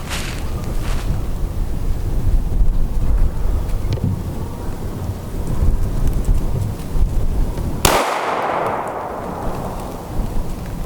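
A single 9x19mm Geco 115gr JHP pistol round is fired at close range, one sharp loud crack near the end that follows steady outdoor background rumble.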